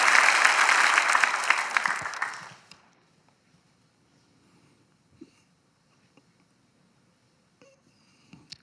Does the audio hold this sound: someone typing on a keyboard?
no